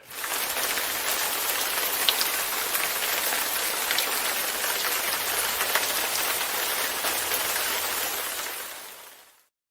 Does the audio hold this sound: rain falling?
yes